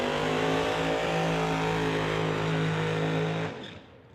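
A 1941 Willys drag car at an old-time drag meet roars loudly at full throttle for about three and a half seconds, a steady harmonic engine howl that then drops away sharply as the car launches off down the strip.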